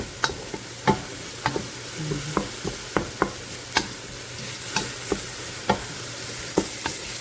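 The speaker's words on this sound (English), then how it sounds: "I'm just gonna let it cook the onions down." A steady sizzle of onions frying in a pan, broken by regular clicks and scrapes of stirring, with no voices.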